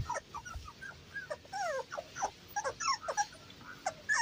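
Several 22-day-old beagle puppies whimper and yip while playing, a quick string of thin, high squeaks and whines scattered across a few seconds, soft and close with no talk.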